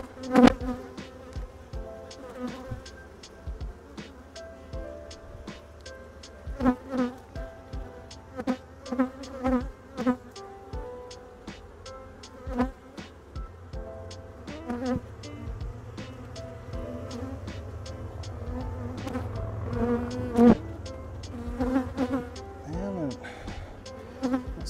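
Honey bees hum and buzz around a hive during the sourwood nectar flow in western North Carolina, a dense close drone of many wings with individual bees swelling louder as they pass nearby.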